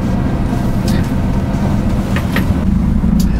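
2018 Scania G450 XT truck driving on the road, a steady loud low engine rumble from inside the cab with a few faint clicks on top, no talk.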